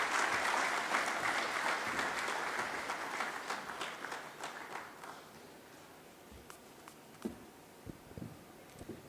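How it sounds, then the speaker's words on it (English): A conference audience at a national non-oil export event applauds loudly, with dense clapping at first that thins into scattered individual claps and fades out over several seconds. "Please, another round of applause for Ambassador Miriam Katibu, the Minister of Trade, Industry, and Investment."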